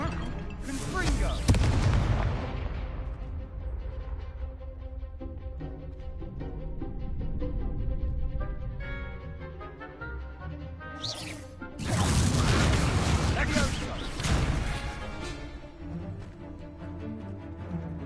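Confringo spell blasts in Hogwarts Legacy, heavy booming bursts near the start and again later, loud and close, with crackling tails and softer magical rumbling between them.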